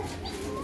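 Pigeons coo at close range in a loft, a brief low throaty burble standing alone.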